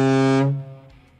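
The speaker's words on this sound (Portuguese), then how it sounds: "Som de buzina." A truck horn in the PC driving game Truck Driver gives one loud, sustained blast that drops off quickly after about half a second, with no talking.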